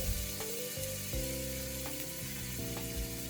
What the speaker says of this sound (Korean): 마늘을 천천히 볶아주세요.